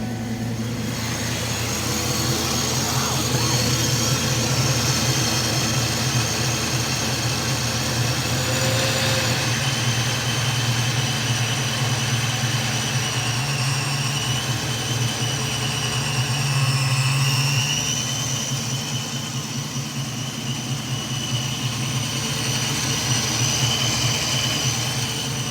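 Car engine running with the throttle held open, a steady loud droning roar that holds a constant pitch throughout, close by with no talk.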